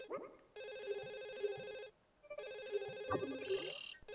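A Sims: Bustin' Out video game phone rings twice in long trilling bursts with a pause between, a voice talking faintly underneath and around the rings.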